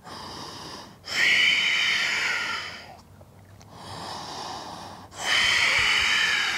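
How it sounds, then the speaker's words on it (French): Someone does slow Ujjayi breathing during a yoga vinyasa session, with long, hissing inhales and exhales through a constricted throat. Breaths alternate with short pauses, close and fairly quiet, with no talking. "De longues inspires et de longues expires, toujours une respiration Ujjayi"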